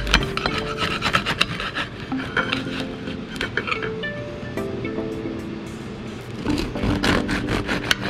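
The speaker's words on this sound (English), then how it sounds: "I got a potato and buttermilk bread. I'm gonna cut 2 nice pieces." A knife saws back and forth through potato and buttermilk bread as two slices are cut, a steady close rasping scrape with dull wooden board knocks, continuous throughout with no talking.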